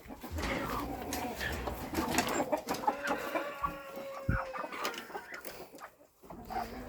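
Broody sitting hens cluck in a farmyard poultry shed, with ducks nearby. Several birds make soft repeated clucks and coos that overlap close by, and a sharper squawk stands out midway.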